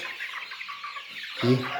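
Many small village and broiler chicks cheep in a busy chorus of high, thin peeps, with a louder voice cutting in at the end.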